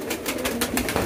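Pigeons at a bird market on a hot day give a brief run of soft, pulsing coos, close and steady for about a second.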